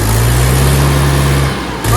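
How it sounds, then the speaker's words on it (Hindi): A 2023 Mahindra 475 DI tractor's diesel engine runs loud and close with a steady low throb, dipping briefly near the end before picking back up. "तो ये हो गया है ट्रैक्टर स्टार्ट। थोड़ा सा एक्सीलेटर दीजिए।"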